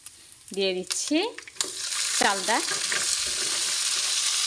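Chalta fried with panch phoron spices, a steady close sizzle of hot oil as the pan is stirred, with a person speaking briefly at the start.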